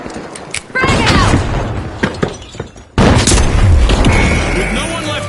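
A frag grenade goes off in the shooter The Finals with a loud booming blast, one burst early and a heavier one near three seconds, amid dense game noise, debris and chatter.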